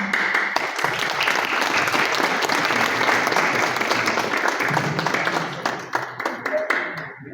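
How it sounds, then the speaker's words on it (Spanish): Loud, dense applause from an audience at a digital economy and e-commerce event, continuous clapping that thins into scattered claps near the end. "Un gran aplauso"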